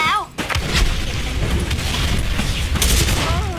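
Gunfire in the online shooter Special Force 2, with loud booming shots in rapid succession over continuous battle noise.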